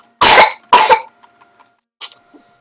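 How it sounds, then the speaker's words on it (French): Two loud, sharp coughs in quick succession, followed by fainter throat-clearing sounds and a short quiet cough after a pause. "Ça tousse, ça tousse."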